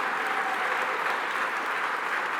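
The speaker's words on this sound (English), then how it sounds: "let's give a round of applause to the Secretary to the Governor, Karen Persicilli-Keough," Sustained applause from a breakfast audience at a New York event honoring the governor's secretary, a smooth, dense wash of many hands clapping evenly, moderately loud and steady throughout.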